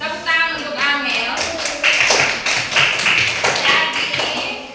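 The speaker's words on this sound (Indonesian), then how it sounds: "tepuk tangan untuk Amel." A classroom of students claps for a classmate, a run of uneven hand claps over several seconds that starts with talking and continues up close.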